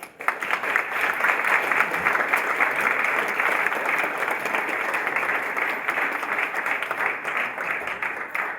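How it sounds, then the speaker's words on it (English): A conference audience at the 7 under 30 2016 event gives the speakers another round of applause: loud, continuous, even crowd clapping sustained for several seconds without a break. "We give one more round of applause"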